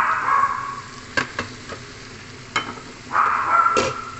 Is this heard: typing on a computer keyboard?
no